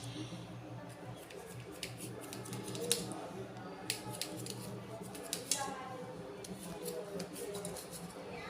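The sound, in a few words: cutting patwadi into triangular pieces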